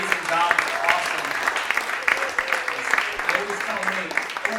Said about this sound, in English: Let's give a round of applause for the sound guys today and the staff.